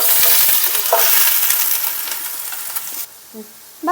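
Sliced onion and green chillies frying in coconut oil in a pan, a steady close sizzle with stirring scrapes and small clinks, dropping to a quieter hiss near the end.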